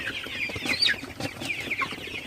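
Sonali super hybrid chickens cluck repeatedly in a busy, continuous stream at close range, several birds overlapping with brief squawks over a steady barnyard background.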